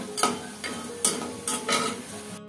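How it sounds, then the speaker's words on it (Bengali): Lentil bori frying in oil until reddish, a soft background sizzle broken by four rhythmic scraping stirs of a spatula against the pan. "বড়িটাকে একটু লাল লাল করে ভেজে নেব"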